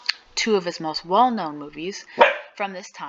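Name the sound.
dog barking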